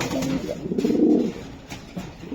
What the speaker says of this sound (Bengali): বাহ, বিশাল সাইজের কবুতর